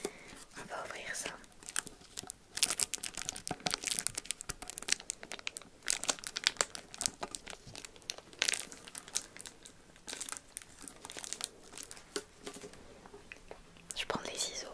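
Crinkling and crackling of a Pokémon booster pack box being opened up close, dense bursts of crisp rustles running almost continuously alongside soft whispering.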